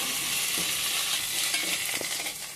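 Ginger garlic paste fries in hot oil for a yogurt chicken curry, a continuous close sizzle with a few soft stirring scrapes against the pan.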